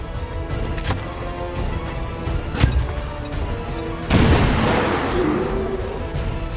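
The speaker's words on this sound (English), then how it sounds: "Grenade out!" A grenade explosion in XCOM 2: War of the Chosen, a loud sudden boom followed by a broad rumbling crash and debris, amid other game sound effects and earlier impact thuds.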